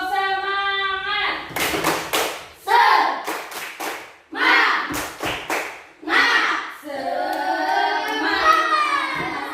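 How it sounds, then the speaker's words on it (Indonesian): A classroom group performs a rhythmic tepuk semangat clap chant, bursts of patterned hand claps alternating with children's voices chanting together, close and lively. "Ayo, tepuk semangat."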